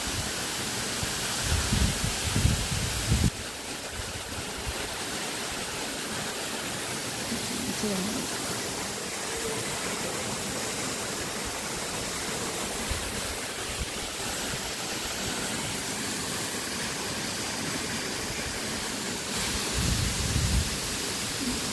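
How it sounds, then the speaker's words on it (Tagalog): Cenghen Falls, a waterfall in Lecco, Italy, seen in winter, sends out a constant broadband rushing roar that fills the whole stretch evenly, with a few low thumps near the start and end. "Tiis lang muna ang Nono sa pag-admire sa magandang waterfall na to"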